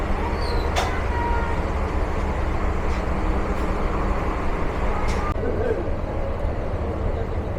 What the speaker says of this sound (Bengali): সরিষাবাড়ি রেলওয়ে স্টেশনে যাত্রাবিরতি সম্পূর্ণ করে ছুটে চলছে আন্তনগর অগ্নিবীণা